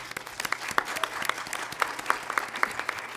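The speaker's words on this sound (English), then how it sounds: "Please give a welcome round of applause to Dr. Sandra Alfonsi." Audience applause welcoming a guest speaker at a lecture event, a moderate room full of clapping with distinct sharp individual claps popping through the steady patter.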